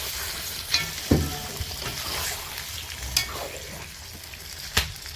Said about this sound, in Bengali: ভালো করে খুন্তি দিয়ে ভালো করে নেড়ে নিতে হবে